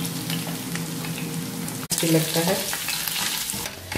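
Cornflour-coated paneer pieces fry in hot oil, making a loud, close, crackling sizzle with stirring clatter and a brief clunk midway, while someone speaks briefly.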